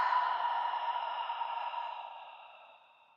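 A long, soft exhale during a gentle yoga flow, a breathy airy stream that starts steady and fades away toward the end, heard alone and close.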